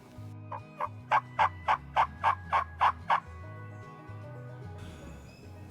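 A wild gobbler turkey sounds off in a creek bottom, a rapid rattling series of about nine loud gobbles, fairly close, then quiet outdoor ambience with no talking.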